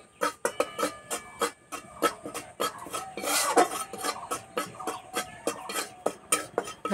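Two spoons of gram flour dry-roasting in a kadai for a kachori filling, with a spatula scraping and stirring in quick, steady strokes that repeat throughout, close and moderately loud with no talking.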